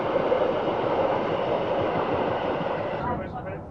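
The Glacier Express rolls along a Swiss Alpine railway with a steady, dense rumble of wheels and carriages that stays loud and close throughout.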